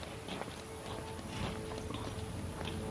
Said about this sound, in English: the horses decided to come visit today